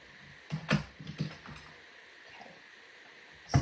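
A manual die-cutting and embossing machine is cranked by hand, giving a few uneven creaking, ratcheting bursts close up, a pause, then another sharp mechanical clunk at the end, with no talking.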